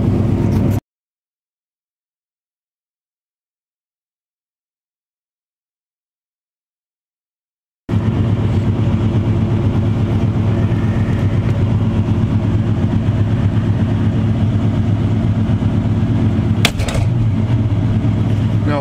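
A 1980 Chevy 454 V8 idles in frigid cold after a cold start, a steady low rumble that cuts in abruptly after a stretch of silence and holds loud and even to the end, with one brief sharp blip near the close.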